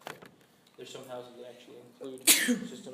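A single sharp sneeze bursts out near the end, loud and close, just after a person has been speaking in an indoor room.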